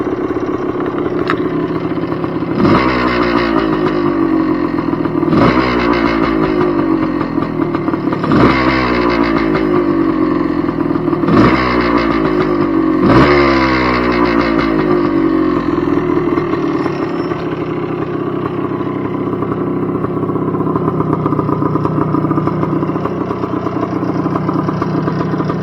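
A 1978 Yamaha IT250 two-stroke motorcycle is cold-started on fresh fuel, with several loud revs rising and falling early on before it settles into a steady, close idle.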